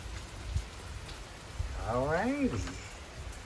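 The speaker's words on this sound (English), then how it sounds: "It's raining. It's the first time it's raining since I've been here. The rain is crazy, look." Heavy rain pours steadily through an open window into a room, a constant dense hiss heard throughout, while someone speaks briefly over it.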